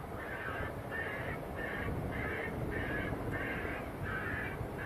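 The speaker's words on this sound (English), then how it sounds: "How did he know that crow was there?" A crow near an airport runway caws repeatedly in a steady series of harsh calls, roughly eight in five seconds, over constant low outdoor rumble and wind noise.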